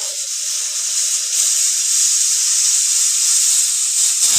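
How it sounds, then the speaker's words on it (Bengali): Rice cooking in a pot for dinner, giving off a steady, loud steam hiss that holds evenly throughout with no voices. "আর এই যে আমার ভাত হচ্ছে এখানে, রাত্রের ভাত রান্না করছি"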